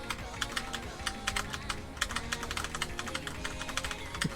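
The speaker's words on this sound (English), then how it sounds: "I'm just listening to your keyboard tabs." Steady typing on a computer keyboard, quick soft key clicks in an irregular rhythm, close and fairly quiet, with no talking.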